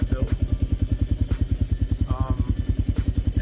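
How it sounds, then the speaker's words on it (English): Custom-built heavy motorcycle engine thumping in a steady, fast pulsing rhythm while riding, loud and close with wind buffeting, on a bike ahead of a Florida hurricane. "I have a big apocalyptic motorcycle that I built."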